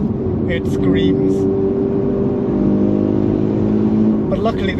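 A Mazda RX-8 (SE3P) rotary engine screams at around 6,000 rpm, a loud, steady, sustained high-revving drone with a faint voice briefly near the start and end.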